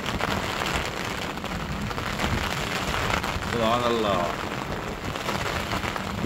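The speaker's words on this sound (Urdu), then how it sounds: "یہ جون کی بارش ہے۔" Steady June rain falling fills the whole stretch as a dense, even hiss, with someone speaking briefly over it midway.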